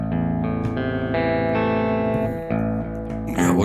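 A distorted baritone guitar through a Kemper Profiler plays a short sequence of heavy chords and notes, dry and upfront with no reverb tail.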